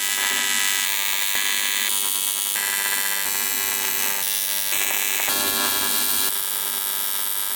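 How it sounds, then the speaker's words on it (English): Tack welding exhaust pie cuts together on a car build: a steady, harsh electric buzz in short bursts of about a second each, close and loud and alone, with small shifts in tone between tacks. "I'm gonna tack the pie cuts together, tack that to the clamp"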